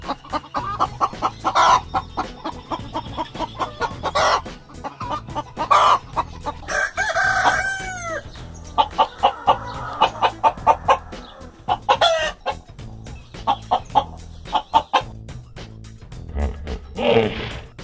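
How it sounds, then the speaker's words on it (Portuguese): Chickens cluck in short repeated bursts while a rooster lets out a loud, drawn-out crow in the middle, all close and clear against a farmyard backdrop, with no talking. "A galinha é uma ave que as pessoas criam no mundo inteiro."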